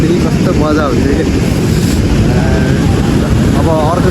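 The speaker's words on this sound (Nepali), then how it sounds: "छाल आइरहेको छ गाइस।" Sea waves wash in on a beach in a continuous broadband roar mixed with wind buffeting the microphone, while a person's voice can be heard faintly over it.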